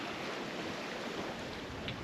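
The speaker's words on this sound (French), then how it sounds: "On voit absolument rien, ni les vagues. On les entend," Ocean waves heard at night from a sailboat crossing the Atlantic: a steady, full wash of surf and rushing water mixed with wind, with no talking.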